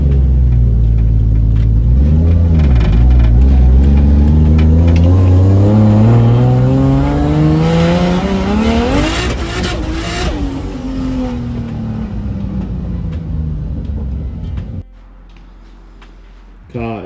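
A car with a Toyota 1JZ engine, just repaired for a misfire, revs hard on a street test drive, climbing through gears with a loud rising roar before easing off to a low idle, with speech mixed in.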